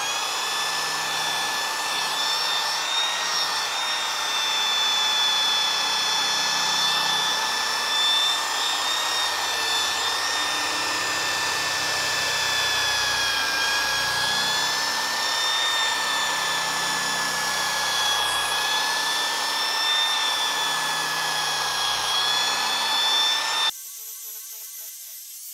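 Car polishing machine spreading polish on slow speed during a wet sand and polish job, a steady close whine with stable tones running continuously before cutting off near the end, no talking.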